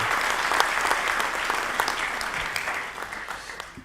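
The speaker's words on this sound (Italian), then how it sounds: "Facciamo un applauso anche" Steady audience applause at an Italian book presentation event, a dense wash of many hands clapping continuously at moderate loudness, with faint voices mixed underneath.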